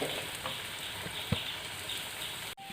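Ripe plantain pieces frying in ghee give a steady, close sizzle, with occasional soft knocks and scrapes as a spoon stirs the pan, and no voices.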